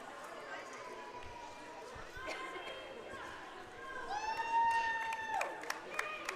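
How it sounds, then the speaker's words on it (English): A crowd cheers and shouts at a high school swimming meet between Evanston and Lyman, a steady roar that rises toward the end with whistles and a voice over it. "A crowd rooting her on, trying to bring her home, keeping her encouraged."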